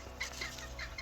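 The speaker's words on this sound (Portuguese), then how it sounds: "Explica-me lá porque é que estás a regar as galinhas." Chickens being watered give soft, scattered clucks against a constant broadband rush of spraying water, close by, with no talking.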